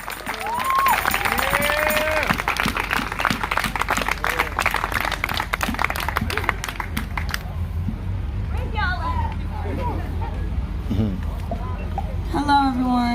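An audience gives a round of applause at an evening gathering, a dense burst of clapping with cheers and whoops that fades after several seconds into scattered claps as people start to talk.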